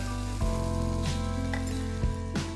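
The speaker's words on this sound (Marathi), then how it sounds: "आता आपण यात हे मिश्रण घालूया. दही आणि चण्याच्या पिठाचं मिश्रण घालूया" A yogurt and gram flour mixture sizzles steadily in hot oil, with a few soft clinks of stirring.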